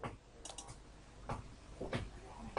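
Scattered keystrokes on a computer keyboard while entering dimensions into house-plan drafting software, a handful of soft clicks and taps spread irregularly over a couple of seconds, close by and without talk.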